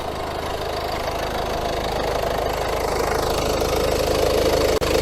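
A car engine idling with the AC switched on and the compressor clutch engaged, a loud, steady low rumble with mechanical vibration and one brief click near the end.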